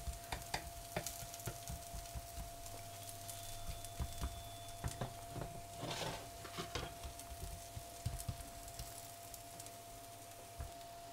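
A vegetable dosa cooks on a pan, a quiet steady sizzle broken by repeated sharp scraping and tapping clicks from a utensil against the pan.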